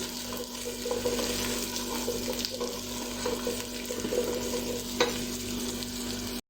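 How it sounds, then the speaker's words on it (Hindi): Okra (bhindi) frying in hot oil for a dhaba-style masala dahi bhindi, a steady close sizzle with occasional stirring scrapes and a faint constant hum, no talking. "हमने भिंडी को फ्राई करना है।"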